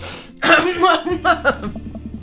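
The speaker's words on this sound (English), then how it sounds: "I clear my throat." A person clears their throat with a few short, rough bursts, close and fairly loud.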